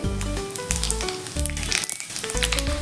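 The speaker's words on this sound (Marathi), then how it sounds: "तेल आपले हलकेसे गरम झाले की त्यामध्ये आपण मोहरी," Mustard seeds and cumin frying in hot oil in a kitchen pan, a close, busy sizzle with crackling pops and a few clinks of stirring.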